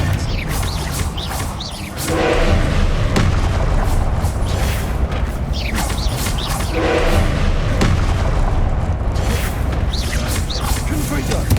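Confringo and Expelliarmus spell blasts burst in Hogwarts Legacy, loud booming impacts and whooshing casts repeating in quick succession over a heavy low rumble, with a voice calling out between them.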